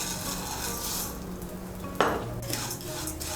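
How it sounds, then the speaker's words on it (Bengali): Vermicelli frying in ghee in a kadai, a soft continuous sizzle with one sharp clink of a utensil against the pan midway, close but fairly quiet, no voices. "কড়াইতে যে ঘি আছে এর মধ্যে আমি সেমাইগুলো ভেজে নেব।"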